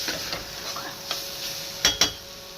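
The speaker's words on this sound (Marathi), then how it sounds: "चांगलं मिक्स करून घेऊया।" A spoon scrapes and clinks through a thick soybean curry mixture with chopped coriander and crushed peanuts in a pan, faint stirring scrapes with two sharp metal knocks near the end.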